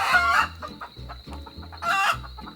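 Chickens perched in trees in a Caribbean town cluck steadily near the listener, with a louder squawking burst at the start and again near the end over a continuous low clucking chatter.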